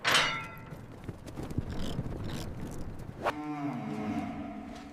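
Angus cattle mooing in holding areas inside a hide and horn processing plant, several drawn-out moos at moderate distance amid clanking gates and metal handling noise.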